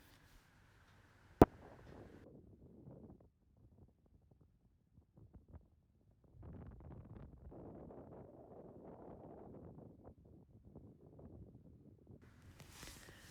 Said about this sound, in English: I tried to turn the volume down so you wouldn't hear the wind